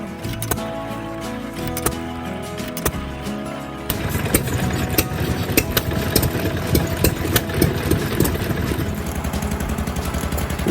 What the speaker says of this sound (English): The original economy tractor.